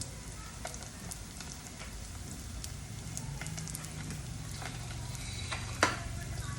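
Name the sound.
lumpia frying in oil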